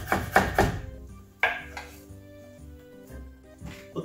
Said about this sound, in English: we'll cut up the onion